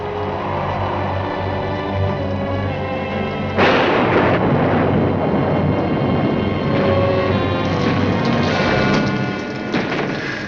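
Steady rain and wind roar, then a sudden loud thunderclap crashes in, followed by rumbling and another burst later; no voices.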